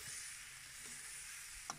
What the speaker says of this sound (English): So real-time stir frying here.